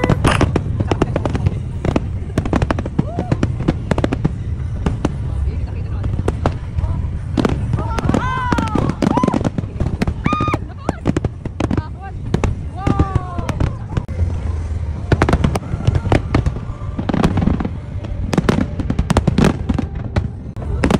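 Fireworks burst over Yokohama in a dense, loud barrage of rapid cracks and booms with no pause between them, while whistling trails and scattered onlooker voices rise faintly under the explosions.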